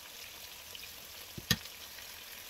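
Milkfish sizzles faintly in hot cooking oil for a bangus bistek, a low steady fry hiss broken by one sharp crackling pop near the middle, with no talking.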